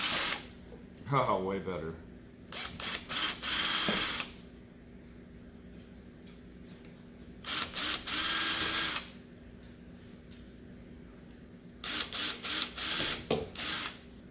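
Drill boring a hole into a DIY aquarium air manifold, several bursts of whirring and grinding that start and stop at changing speeds, close and loud, with a brief spoken remark between bursts.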